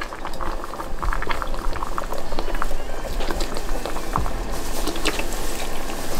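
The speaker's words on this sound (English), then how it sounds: "And you're gonna use beef broth. You're gonna pour this over here like this." Beef broth pours into a pot for oxtail, a steady bubbling, splashing liquid patter at close range, continuous throughout with no talk.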